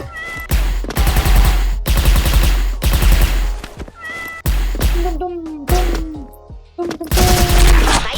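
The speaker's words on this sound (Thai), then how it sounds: "ยิงหัวไปเลย" Rapid bursts of gunfire in a cat-themed shooting video game, loud and repeated in several volleys, mixed with synthetic meowing cries between the shots.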